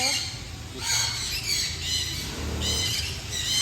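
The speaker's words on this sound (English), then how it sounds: "His name as a breed is cockatiel" A cockatiel gives repeated harsh squawks and shrill calls in short bursts, close by, with a low background murmur.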